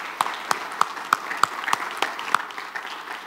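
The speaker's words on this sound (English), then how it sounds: "Can we give them another round of applause?" Applause from a church congregation for a group of children, a steady wash of clapping with sharp, evenly spaced accents running through it.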